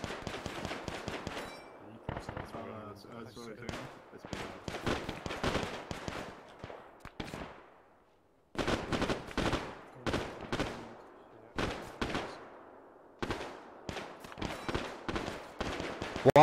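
Dense, rapid gunfire from rounds in the military shooter Arma 3, with bursts and single shots cracking in quick succession over about sixteen seconds, some near and loud, some trailing off, with a brief lull midway.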